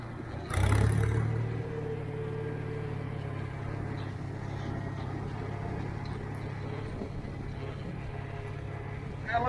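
A McCormick Farmall 350 tractor from International Harvester chugs steadily with a low engine drone while it drives around in a circle, a brief louder clunk near the start, moderately close and without speech.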